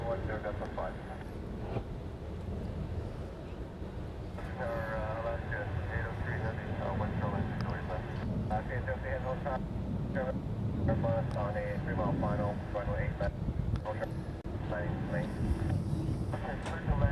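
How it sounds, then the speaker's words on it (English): Hawaiian Airlines flight 807 from Las Vegas approaches Honolulu, a low steady airliner rumble in the background while people chat over it. "This is Hawaiian Air 807 coming in from Vegas."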